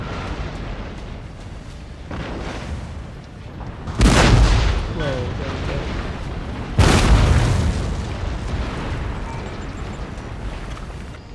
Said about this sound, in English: Got the other cannons firing in the far.